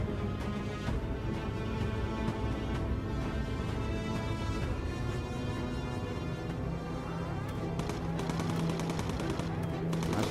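Continuous rapid cannon fire rattles from a bomber's front gun turret in the video game Bomber Crew, loud dense bursts running without pause.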